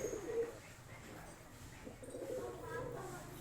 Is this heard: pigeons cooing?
yes